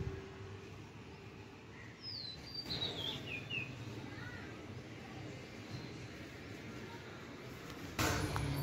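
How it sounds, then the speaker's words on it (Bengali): Several birds call and chirp outdoors in the early morning amid village greenery, short bright whistles and tweets scattered over a quiet background, moderately near with a soft thump near the end. "পাখির ডাক, এগুলো শুনতে কিন্তু খুব ভালো লাগে।"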